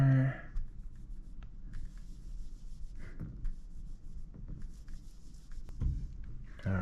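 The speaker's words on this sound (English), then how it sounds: "I need something to erase this." A whiteboard is wiped clean, producing soft, repeated rubbing and squeaking strokes of moderate loudness, with a few brief voice sounds between them.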